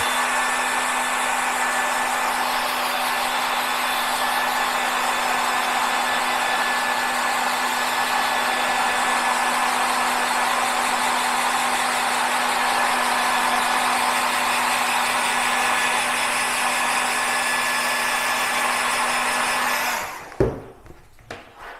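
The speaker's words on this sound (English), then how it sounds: "Let me just run a hairdryer over it just to make sure." A hair dryer blows steadily and loudly for about twenty seconds with a constant whine, then clicks off, leaving a few faint handling knocks.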